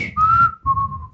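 A person whistles two clear, sustained notes in quick succession, the first sliding slightly upward and the second a bit lower, close and alone over faint room noise.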